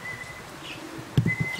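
Racing pigeons circle overhead during a competition homecoming at a loft in Kosakowo, giving faint chirps and coos over an outdoor hum, with a brief louder burst of sound near the end.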